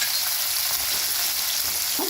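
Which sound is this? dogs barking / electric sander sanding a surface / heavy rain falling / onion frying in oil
onion frying in oil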